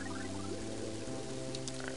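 Dog lapping at a spring in Mother 3, a soft watery pouring and trickling sound running steadily over game music, with small splashy droplets near the end.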